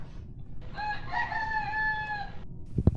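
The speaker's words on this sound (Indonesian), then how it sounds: "Tuh, ayam Beneran lu loh, Mafaza Rakes minta makan." A rooster crows once at middle distance, a long drawn-out cock-a-doodle-doo rising then holding, heard over faint background hum with a brief knock right after.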